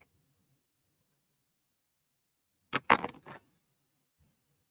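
Silence, then a short metallic clatter of a few quick impacts as scissors drop, then quiet again.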